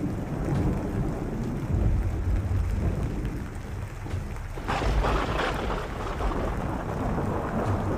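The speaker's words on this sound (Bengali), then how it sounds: "কান ফাটিয়ে বাজ পড়ল আমার আশেপাশে কোথাও" Thunder crashes near a rural Bengal level crossing in a village ghost story: a steady low rumble with rain and wind, then a sharper, louder crack about two-thirds through that rolls on to the end. No voices.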